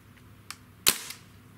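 Trigger of a Crosman Bushmaster MPW BB air rifle released during a pull-weight test with a trigger gauge, giving one sharp, close, loud snap with a faint click just before, alone in a quiet room.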